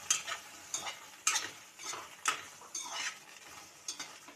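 Red chillies dry-roasting in a pan with no oil for chana dal chutney, stirred with a utensil that scrapes and clinks against the metal in repeated bursts, with a faint sizzle underneath.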